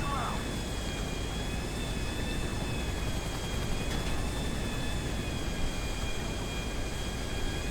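An airplane taking off in the video game GTA 5 gives a steady, loud engine drone with a high whine running through the whole stretch, and a brief soft thump near the start.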